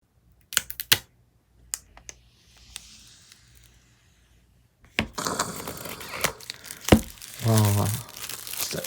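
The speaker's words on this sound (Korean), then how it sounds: "언박싱 바로 진행해 보도록 하겠습니다" Apple Watch SE box being unboxed: scattered close taps and clicks of handling cardboard, then a burst of tearing and crinkling packaging, with a brief voice-like sound near the end.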